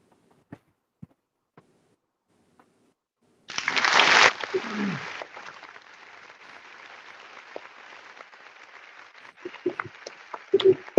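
A small audience breaks into a sudden burst of clapping after some quiet clicks. The applause peaks loudly, then fades into scattered claps and murmuring voices, with a few louder whoops near the end.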